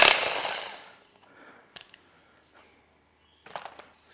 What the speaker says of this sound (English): I think the nut gun will undo them anyway, but we'll just give it a go.